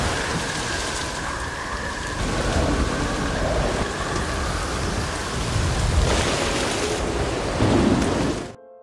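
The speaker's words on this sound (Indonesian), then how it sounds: "Kemudian Chuck terombang-ambing di Lautan Pasifik di tengah badai yang ganas seorang diri." Heavy rain pours steadily while thunder rumbles through a loud, continuous violent storm on the Pacific Ocean, with no voices.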